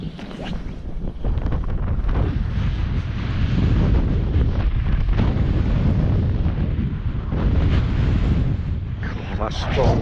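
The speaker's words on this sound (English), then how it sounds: "God, that's strong wind that." Strong wind buffets the microphone during still-water fly fishing in the UK, loud gusty rumbling that swells and eases in waves across the whole stretch with no speech.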